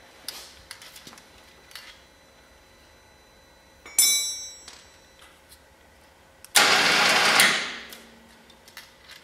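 Winch motor on a 2021 Polaris Ranger 1000XP fitted with a Glacier plow: a faint short whir first, then a louder, harsher motor whine lasting about a second that cuts off abruptly, nearby, with small clicks around it and no talk.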